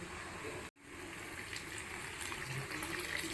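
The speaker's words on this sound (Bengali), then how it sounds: "জল ঢেলে দিচ্ছি।" A steady, close rush of water pours into a pot of ghugni, continuous and fairly quiet after a brief cut near the start, with no talking.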